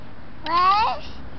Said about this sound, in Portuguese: Olha lá o miau. Olha lá o gatinho.